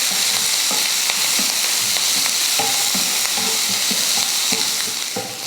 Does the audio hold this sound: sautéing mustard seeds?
yes